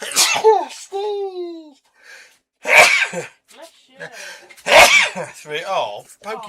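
A person sneezes twice at home during a live scratch-building session, each sneeze a sharp, close burst between stretches of talk from an adult and a child.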